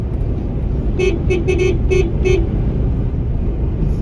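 A car horn toots several quick times in a rapid burst over steady loud road and engine rumble during a road trip in Ladakh.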